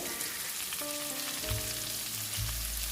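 Shallots sauté in a pan with a steady, even frying hiss, while low tonal hums and a brief clink sit under the sizzle; no one speaks.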